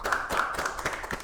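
Brief clapping from the back of an audience at a school presentation in Aceh Singkil, a short run of quick, fairly close handclaps lasting about a second, with no talk over it.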